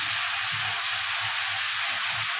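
Onions, masala, coriander powder and a little fresh coriander sautéing in a pan for a dried-fish, hyacinth bean and potato dish, giving a steady loud close sizzle with faint stirring scrapes underneath.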